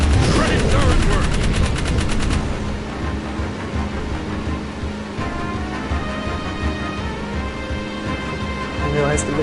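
Rapid turret gunfire from the video game Jak 3, a dense burst of automatic shots up front that gives way to a steady, loud rumble of continued firing and explosions beneath game noise.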